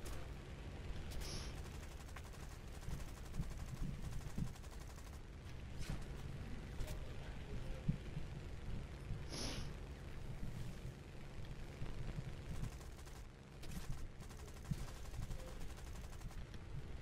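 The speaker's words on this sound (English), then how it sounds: "30 cal machine guns don't do much on the ground" Bursts of .30 caliber machine-gun fire from War Thunder aircraft in a British plane match rattle steadily, distant and muffled, over a constant low engine drone, with a few sharper cracks.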